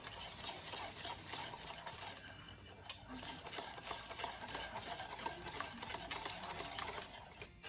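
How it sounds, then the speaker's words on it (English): Pancake batter with evaporated milk whisked in a bowl for a Dutch apple pancake, a quick continuous whirring and clinking, fairly faint and steady with no talk. "Going to whisk all these together until they're well combined."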